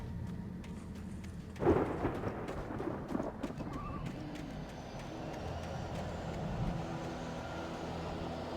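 A thunderstorm with rain in the Alan Wake video game: a steady wash of rain and wind, broken by a loud rumbling thunder burst near the start and a lighter rumble after, with no talking.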